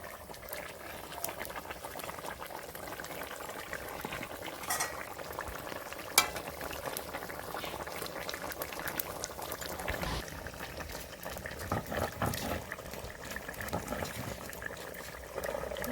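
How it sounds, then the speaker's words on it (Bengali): Spiced fish curry broth bubbles steadily in a pan as pieces of rohu fish are added, with soft splashes and stirring clinks over a continuous close boiling hiss; no talking. "ঝোল ফুটে গেছে, আর মাছ দিয়ে দিচ্ছি।"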